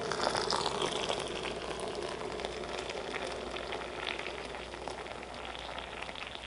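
Water runs steadily into a kettle, a continuous rushing splash at moderate volume with no talking.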